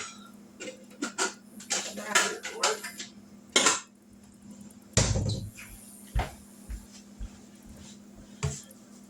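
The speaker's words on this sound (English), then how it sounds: "Let me grab a bowl." In a home kitchen, a cupboard is opened and a bowl is taken out, with scattered clacks, knocks and ceramic clinks, a couple of sharper thumps, and a low steady hum underneath.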